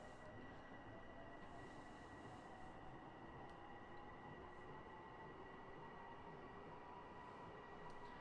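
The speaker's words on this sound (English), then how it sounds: "That is a train going by on the other track there, track number 4 to our north." A train rolls past on the adjacent track in a Long Island Rail Road train simulator game, a steady, low rumbling drone that stays even and fairly quiet for the full length, with no voices.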